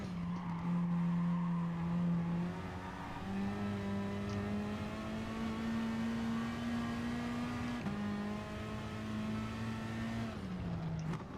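Race car tires in Gran Turismo Sport squeal in a long, sustained skid under late, heavy braking, with a steady tonal screech and engine hum running throughout at close, even loudness.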